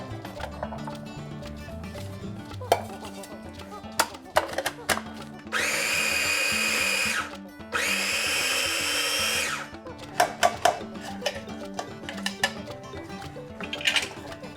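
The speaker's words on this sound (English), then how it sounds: "we're gonna pulse 3 cups of chickpeas in the food processor" A food processor pulsing three cups of chickpeas runs in two loud, steady whirring bursts of about two seconds each. Clinks and kitchen knocks come before and after the bursts, with faint background sound between them.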